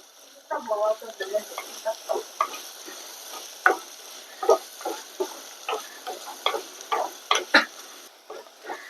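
Onions sautéing in a pan for crab curry, a soft frying hiss beneath a rhythmic series of scraping, clattering spoon strokes, roughly two per second, close and clear.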